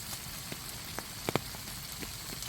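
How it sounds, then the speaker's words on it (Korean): Rain falls on a campsite on North Stradbroke Island near Brisbane, a steady soft patter with a few sharper drops striking close by, heard alone without talk. "비가 내리고"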